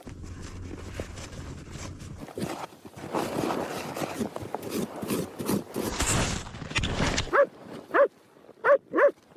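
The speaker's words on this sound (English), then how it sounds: "I just am waiting for the avalanche dog Mud to come find me." An avalanche rescue dog works in snow: scuffling, digging and movement build up, then several sharp, close barks ring out in a short, spaced series near the end.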